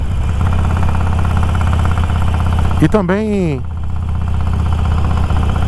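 A motorcycle engine idles close by in a steady, low, pulsing throb that runs the whole time, with a voice briefly speaking over it midway.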